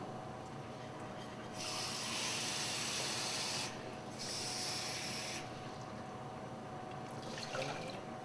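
Water for brown rice runs into a saucepan in two hissing bursts of a few seconds each, separated by a short pause, fairly faint and close.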